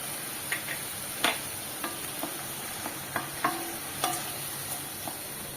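Tomatoes and curry leaves frying in a pan while being stirred, a quiet steady sizzle broken by a dozen light scraping and tapping strokes at irregular intervals, close by and with no voices.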